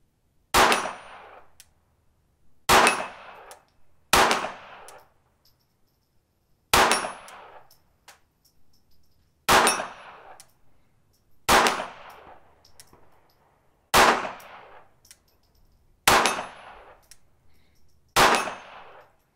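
A Ruger Mark II pistol fires at homemade steel targets on a range: eight sharp shots a couple of seconds apart, each followed by a bright metallic clang that rings out and fades before the next, with no talking.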